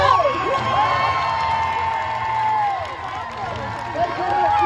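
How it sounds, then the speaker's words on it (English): A crowd cheers and whoops at a dog show as a trained dog named Fury runs, with children's shouts and a few claps in a loud, steady roar. "The louder you cheer, the faster she goes."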